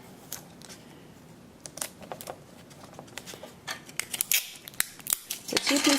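Cheap one-sided Scotch tape from a dollar store being pulled off the roll and snipped, with scattered close crackles and sharp cutting clicks that grow denser toward the end.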